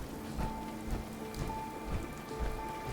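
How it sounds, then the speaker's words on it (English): Steady patter of rain falling in Fallout 4, a dense even hiss with soft droplet ticks, faint and continuous with no voices. "Of course, it has to be raining."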